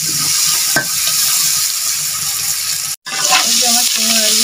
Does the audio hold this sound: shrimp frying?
yes